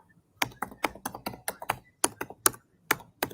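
Typing on a computer keyboard during a podcast recording, a close series of sharp, uneven key clicks arriving in short bursts with brief pauses between them.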